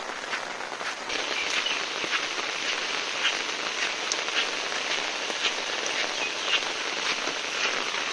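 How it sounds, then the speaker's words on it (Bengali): Heavy monsoon rain pours steadily near ponds, a dense, continuous hiss of drops hitting surfaces with scattered sharper patters, loud and unbroken with no voices. "প্রচুর বৃষ্টি হচ্ছে,"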